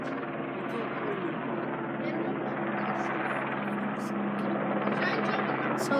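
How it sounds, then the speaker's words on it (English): A private helicopter flying nearby makes a steady, fairly faint droning buzz that continues throughout, with people's voices in the background. "It's a private helicopter."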